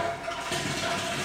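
A brief rush of water draining from a column through a hand valve, steady and hissing, with gurgling that swells partway through.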